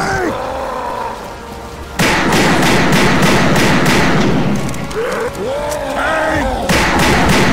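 Heavy, rapid gunfire aimed at a Tank in a zombie video game, a dense, loud continuous barrage of repeated shots over the game's chaotic background noise.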